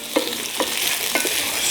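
Potatoes sautéing in a pan are stirred with a utensil, giving three soft scraping strokes spaced about half a second apart over a steady low sizzle, close and moderately loud.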